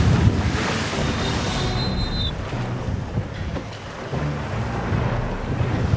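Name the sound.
large waves breaking on the bows of racing sailboats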